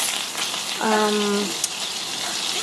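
Two tablespoons of butter melting in a pan give a soft, steady sizzle and hiss, fairly close and continuous, with a brief tonal clink partway through.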